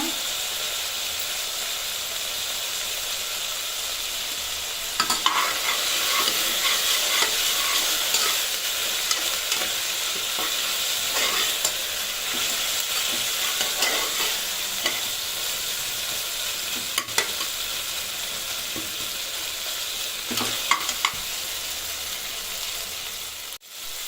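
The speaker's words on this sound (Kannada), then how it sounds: "ಸ್ವಲ್ಪ ಟೊಮೆಟೊ ಬೇಯಲಿ. ಇದಕ್ಕೆ ಸ್ವಲ್ಪ ಕರಿಬೇವು ಹಾಕೋಣ." Tomato and curry leaves frying in a pan for a Salem-style chicken curry, a steady broadband sizzle running throughout with occasional stirring scrapes and clicks, close and fairly loud, no talking.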